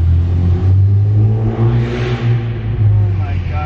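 An Infiniti Q60 with a flame tune and loud exhaust rumbles with a deep idle and repeated short revs, heavy and close, while people talk over it.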